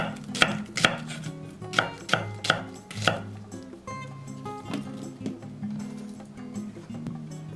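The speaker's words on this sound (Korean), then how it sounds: "양파 반 개는 굵게 채 썰어줬다" A knife slices half an onion into thick strips on a cutting board, several crisp rhythmic chops close by at first, then softer, quicker cuts over a quiet background.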